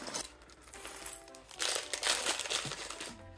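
Plastic bags of Lego pieces being unwrapped up close, with continuous crinkling and rustling of thin plastic that swells louder midway, plus a few small clicks of loose bricks shifting inside.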